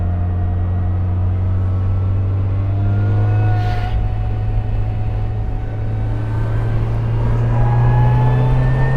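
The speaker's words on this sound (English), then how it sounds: "We got a Porsche coming up on us, and we're gonna let him pass." A steady engine drone with a rising whine as a Porsche sports car approaches on a race track and builds speed, loud and continuous, no voices.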